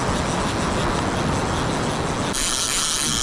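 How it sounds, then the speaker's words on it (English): A fishing reel's clicker ratchets in a fast, continuous buzz as line pulls off during a snapper fishing session, loud and close, changing tone abruptly toward the end. "get rid of that clicker noise."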